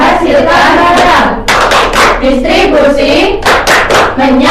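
Elementary school class in a microteaching lesson doing a rhythmic clapping chant about economic activities, loud bursts of sharp hand claps in a regular beat alternating with children's voices chanting together in unison.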